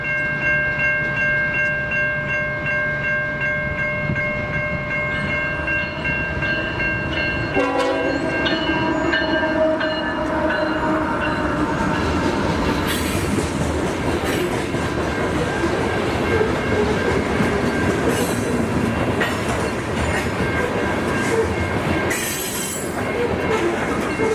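An eastbound BN freight train rumbles past at close range with a blast of horn and squealing wheels, its steady roar filling the whole stretch.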